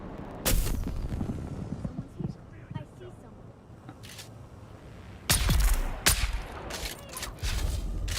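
Gunfire bursts in the Dune video game, with sharp, loud shots around half a second, a louder cluster near five to six seconds and more later, separated by quieter stretches.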